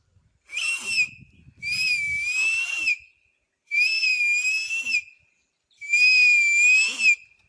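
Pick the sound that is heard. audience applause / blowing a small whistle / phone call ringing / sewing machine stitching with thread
blowing a small whistle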